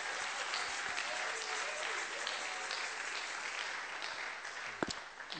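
A church congregation applauds steadily throughout, a dense sustained clapping with no voices on top, one sharp louder clap standing out near the end.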